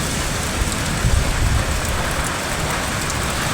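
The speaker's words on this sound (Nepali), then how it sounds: "यस्तो नमजाको असिना आएको छ" Large hailstones pelt down during a hailstorm in Taplejung, Nepal, a dense, steady hiss of impacts with scattered sharper knocks and a brief heavier thud-like surge, loud and continuous without speech.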